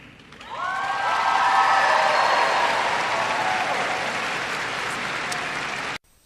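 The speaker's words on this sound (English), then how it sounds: "So what's with the great big round of applause?" Large crowd applause after a presidential national security speech, loud and sustained with cheering and whoops, rising quickly and then holding steady for several seconds before cutting off abruptly.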